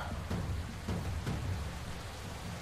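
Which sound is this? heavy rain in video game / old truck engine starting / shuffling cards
heavy rain in video game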